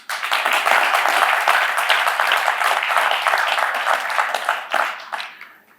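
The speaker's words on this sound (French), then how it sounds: "Nous voulons saluer également leur présence par des applaudissements." An audience applauds to welcome children from an orphanage at a formal event: dense, sustained clapping that holds steady, then briefly thins before a final burst as it fades out.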